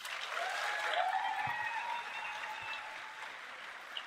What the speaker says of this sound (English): Just a round of applause for all you